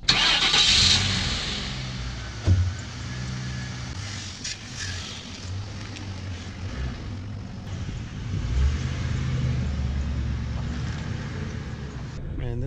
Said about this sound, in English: this car drives smooth